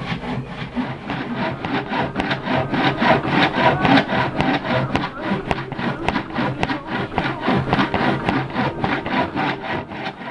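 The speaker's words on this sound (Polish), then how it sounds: "Zaczyna się piła już zakleszczać" Steady back-and-forth rasping of a hand saw cutting through wood, rhythmic strokes repeating quickly and close up, with no talking.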